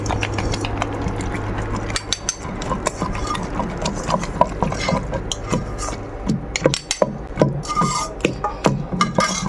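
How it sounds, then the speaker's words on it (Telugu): Tomato, tamarind and raw onion pounded into a chutney in a stone mortar, with loud, irregular thuds and grinding knocks of stone on stone, sometimes in quick runs and sometimes spaced apart. "ఇలా రోట్లో వేసుకొని దంచుకోండి"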